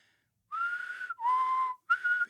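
A person whistles three sustained notes, each held for roughly half a second with brief gaps between, close and clear against near silence.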